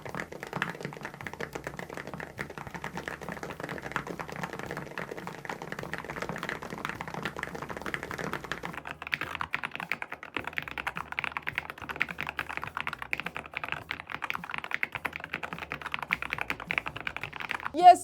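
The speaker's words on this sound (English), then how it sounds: "one of the build is the thockiest keyboard I have ever built." Typing on an Akko Mineral 02 mechanical keyboard, a steady stream of rapid clacky keystrokes, close and fairly quiet, with a brief pause and a slight change in tone midway.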